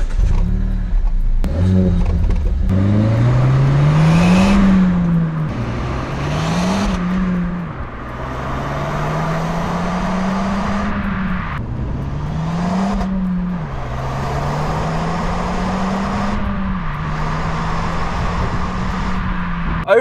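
Exhaust note of a 2021 Suzuki Swift Sport Series II facelift hot hatchback with chrome-tipped tailpipes, revved repeatedly in loud, close rising and falling sweeps over a steady idle, with no talking.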